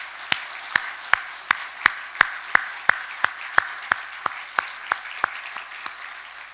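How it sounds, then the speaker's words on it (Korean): A church congregation claps together in a slow, steady unison beat, about twenty crisp loud claps evenly spaced and ringing in a reverberant hall. "우리 하나님께 영광의 박수를 올려드리겠습니다"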